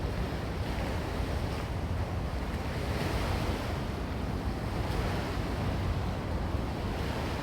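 Disturbed water of the Sumida River, a constant broadband rush of churning water mixed with wind buffeting the microphone, steady and loud throughout with no voices.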